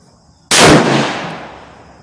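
A single sharp rifle shot from a Savage 110 Tactical cracks loud and close after a quiet moment, then rings out in a long fading echo.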